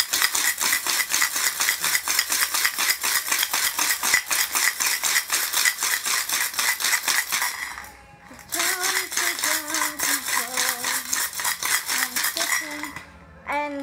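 Items rattle rapidly inside a lidded anodized container being shaken, a dense continuous metallic clatter that drops out briefly near the end, with music playing underneath.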